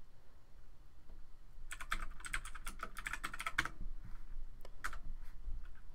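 Terminal commands being typed on a computer keyboard while setting up a Raspberry Pi storage server: a quick, irregular run of close, crisp key clicks in bursts, with brief pauses between keystrokes.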